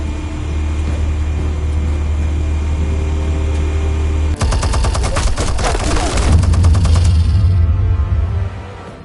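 Rapid machine-gun fire in a Batman setting, a loud burst of dense rattling shots that cuts in mid-way over a low rumble and runs for a few seconds before stopping.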